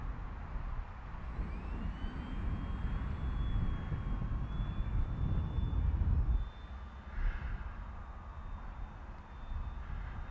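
Phoenix S ready-to-fly RC airplane on its maiden flight, a steady electric motor whine with a thin high tone overhead, fairly constant and moderately distant against outdoor wind rumble, easing slightly partway through.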